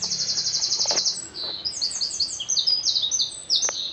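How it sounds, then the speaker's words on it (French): Several birds chirp and tweet in quick high bursts, overlapping calls repeating busily and close, with no talking. "Les oiseaux qui sont avec nous pour la présentation."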